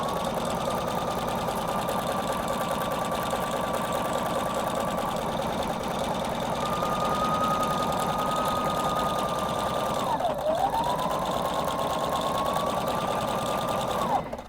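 A Husqvarna Viking Designer Brilliance 80 sewing machine runs a stretch stitch on fabric with a steady, close whir and rapid needle ticking, pausing briefly near the end before resuming.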